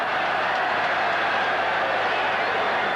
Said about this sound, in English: Ironical cheers coming from the crowd